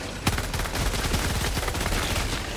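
Dense, continuous automatic gunfire from the video game Helldivers 2 rattles in rapid, loud bursts with no pauses throughout.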